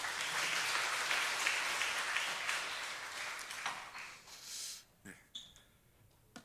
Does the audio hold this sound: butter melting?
no